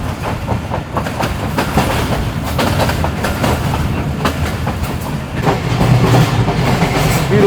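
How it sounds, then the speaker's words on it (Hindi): A train rolls steadily along the rails with a continuous rumbling clatter of wheels, loud and close, with no voices, heard from aboard the Jaffer Express between Jacobabad and Rohri. "तो इस तरह के हालात में आप सिर्फ ट्रैक साउंड सुन सकते हैं बस,"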